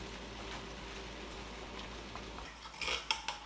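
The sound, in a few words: stirring sliced white mushrooms into spaghetti meat sauce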